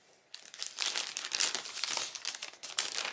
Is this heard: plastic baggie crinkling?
yes